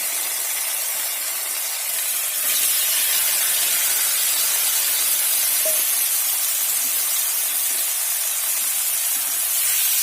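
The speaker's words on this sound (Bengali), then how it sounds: "এবার আমি দিয়ে দিচ্ছি ভেজে রাখা আলুটা আর ভেজে রাখা বেগুনটা" Pre-fried potato and eggplant going into a hot pan raise a loud, steady hiss of frying oil that swells after a couple of seconds and holds, with no talk over it.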